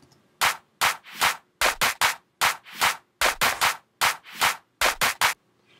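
Grouped clap drum samples with EQ boost, for a tutorial beat: sharp, bright broadband hits in an irregular rhythm of about fifteen strikes, some closely doubled, each with a short noisy tail.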